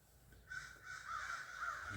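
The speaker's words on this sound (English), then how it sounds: "The crows are working, getting up and moving." Crows calling on a cold, foggy morning amid melting ice and snow, two or three harsh caws in a row, moderately distant and fairly faint, with no speech.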